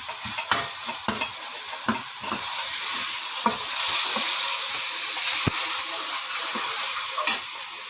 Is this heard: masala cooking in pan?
yes